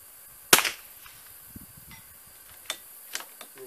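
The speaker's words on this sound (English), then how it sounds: "We'll take 10 rounds, try to hit that golf ball," A Rim-X .22LR rifle fires at a golf ball 246 yards away, giving one sharp, fairly faint crack followed by a few small clicks and knocks in quiet outdoor air.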